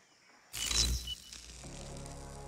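A brief bird call sounds inside the hunting video game Predator: Hunting Grounds: a sudden burst with a short, high chirp, fading into quiet, faint ambient game background.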